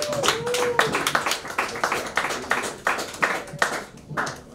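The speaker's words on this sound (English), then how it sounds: "Let's keep clapping." Audience at a Richmond, Virginia comedy club claps in a loose, scattered rhythm of individual hand claps, moderately close, with a brief whistle early on.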